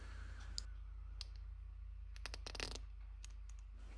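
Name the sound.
coin capsule clicking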